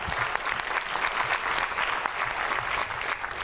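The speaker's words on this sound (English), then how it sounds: "a warm round of applause to Karima Afandi" An audience at a FameLab Poland science talk competition final claps, a dense, steady round of applause filling the room.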